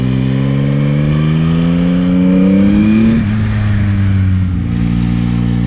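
Yamaha MT-09 motorcycle on an A2 licence, 2022 model, engine decelerating with the throttle closed and gears shifting down, a loud, close, dull exhaust note whose pitch slides steadily lower, then steps down and settles.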